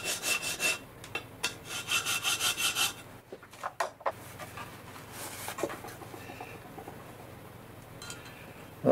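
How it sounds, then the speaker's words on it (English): A hand file rasps across the sharp edge of a slot in a 4-inch steel machine vise, close by, in quick rhythmic strokes at first, then a few scattered scrapes and light taps. "Let's use a file. Let's go over the edge."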